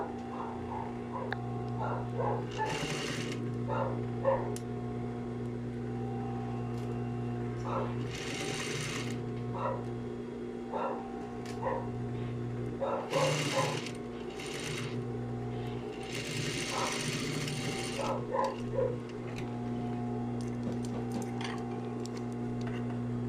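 A sewing machine stitches a waistband seam in bursts, rapid mechanical whirring runs starting and stopping several times over a steady hum, with someone speaking Spanish between runs.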